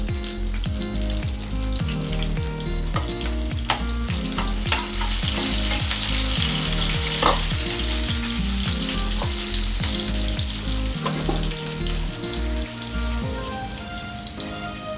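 Dried red chillies and chopped onion frying in oil and ghee for a sambar tempering, a loud, dense sizzle that sounds like rain, with regular stirring scrapes throughout and no voices.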